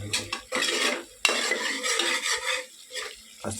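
Food fries in a metal pan while a spoon stirs it, with busy clattering scrapes and knocks over a sizzling hiss, close and continuous with one sharp clank partway through.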